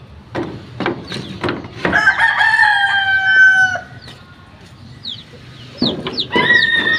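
Hens cluck and call loudly nearby, with a rooster-like crow stretching over a couple of seconds, then more clucking and squawks.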